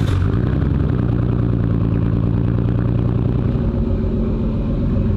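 A straight-piped Nissan Skyline R34 idles loud and close, a deep, throaty, slightly lumpy rumble that holds steady throughout with a faint mechanical clatter on top.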